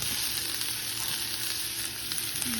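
Onions and tomato fry in hot oil in a pan, giving a steady, close sizzle that holds loud and even throughout with no talk over it.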